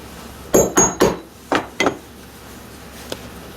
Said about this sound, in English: I'm going to take my hammer, position it on the hole, try to get it as straight as possible